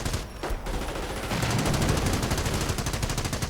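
A machine gun emplacement fires in a war strategy video game, a loud sustained burst of rapid automatic gunfire with overlapping shots after a brief pause at the start.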